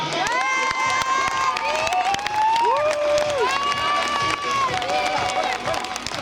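Spectators applaud and cheer as the champion rides a lap of honour at a club junior dressage prize-giving in Lamotte, with steady crowd clapping, shouts and a voice over a public-address system.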